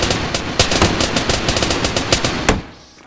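Rapid automatic gunfire from the video game DayZ, loud and close, with bursts of sharp shots in quick rhythm for about two and a half seconds before cutting off.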